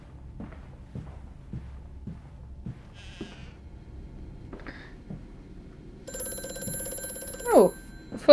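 In the horror game Amnesia: A Machine for Pigs, a telephone rings with a shrill, steady electronic tone near the end, after slow, faint footsteps and odd bleating creature sounds in a quiet space.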